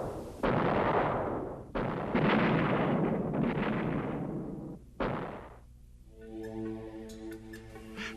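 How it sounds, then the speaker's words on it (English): Naval gunfire support from Vietnam-era warships offshore, with several deep booming blasts, each ringing out and decaying in long rumbles, then heavy droning machinery afterward, loud and close, with no voices. "This is naval gunfire support, a mobile source of big gun reinforcement for friendly troops ashore"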